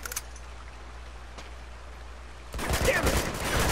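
Gunfire in the video game Uncharted 2 bursts in after a stretch of quiet ambience: a loud, rapid fusillade of overlapping shots that continues to the end.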